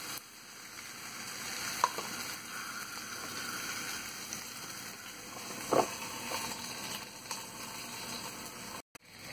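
Piri-piri chicken ingredients frying in olive oil inside a toaster oven, a steady close sizzle running throughout with a couple of brief clicks and a sharp knock near the end, no voices.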